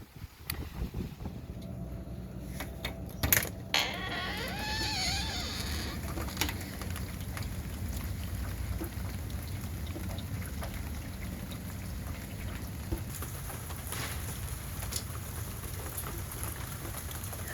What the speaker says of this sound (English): Not much really going on here, but the wind and the rain.